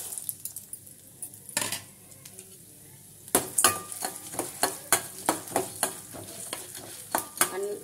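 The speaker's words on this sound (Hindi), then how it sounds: "கல்ல பருப்பையும் உளுத்தம் பருப்பையும் இந்த மாதிரி நல்லா பொன்னரல வறுத்து எடுத்துக்கலாம்" Chana dal and urad dal dry-roasting in a pan, the spoon scraping and clinking against the metal in a steady rhythm of rustling strokes over a faint sizzle.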